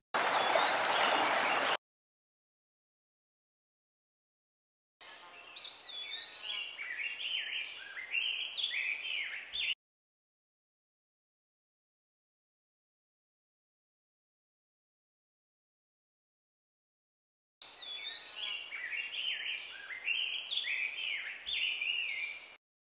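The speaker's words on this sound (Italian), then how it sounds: "La prima, sempre con il suono d'uccelli, l'ho disposta a sinistra per simulare la provenienza degli uccelli da sinistra." Birds chirp and trill in repeated bursts of bright, quick calls, separated by long stretches of total silence, with a short loud noisy burst at the very start; fairly faint overall and free of speech.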